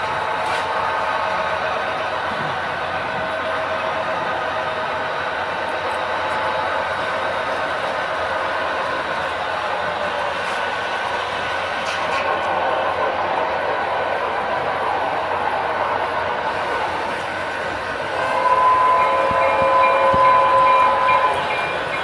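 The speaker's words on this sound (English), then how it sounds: "You can see the train slow up and speed up, stop even, trying to maintain the block spacing." A train rumbles along steadily for a long stretch, its rolling noise swelling near the end with a faint high horn-like tone.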